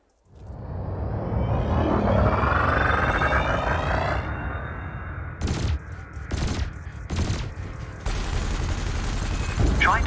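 Ship cannon fire from a starship in the Elite Dangerous tutorial, shooting at floating canisters: a sustained, loud rumbling barrage for several seconds, then three short bursts of gunfire spaced about a second apart, with more rumble near the end.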